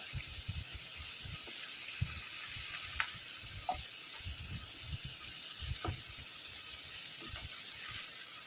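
Prawns lightly frying in a pan for a malai curry, giving a steady quiet sizzle with small clicks and scrapes from stirring, continuous throughout.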